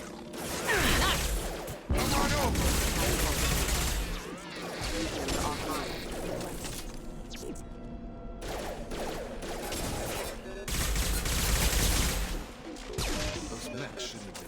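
Gunfire and mechanical combat effects from the video game Mass Effect 2 fill a dense, loud battle mix with repeated shots, crashes and whooshes, with a brief lull midway.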